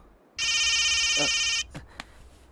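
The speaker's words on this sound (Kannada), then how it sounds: "ರೇ ಧನು ಫೋನ್ ಮಾಡ್ತಾಳಕಲ್ಲ" A phone rings with an incoming call, one loud electronic ringtone burst lasting about a second, followed by faint room noise and a couple of small knocks.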